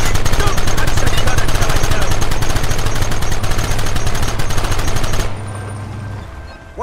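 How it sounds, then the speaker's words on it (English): Rapid machine gun fire hammers away in Red Dead Redemption, a loud, dense stream of shots for about five seconds before cutting off abruptly, leaving faint background sound. "they brought the machine gun"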